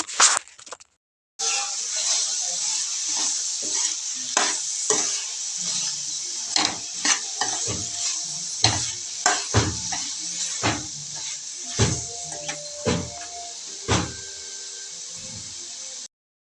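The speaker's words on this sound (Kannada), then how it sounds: "ಕಾಯಿನೂ ಹಾಕ್ಕೊಂಡು ಫ್ರೈ ಮಾಡ್ಕೊಬೇಕು" Grated coconut and coriander leaves fry in a pan with a low, continuous sizzle, while a spatula scrapes and taps against the metal in irregular strokes throughout, fairly close and moderately loud.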